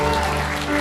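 Church congregation applauding during a worship service, a dense steady wash of clapping filling the short moment, with sustained tonal music or voices underneath.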